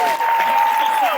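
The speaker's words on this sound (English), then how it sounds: "How about a round of applause for these guys?" Loud, dense applause from a convention crowd for a Daredevil panel at Wizard World Chicago 2016, with a whoop or voice rising and falling above the clapping.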